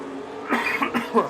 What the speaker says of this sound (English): I apologise for the cough.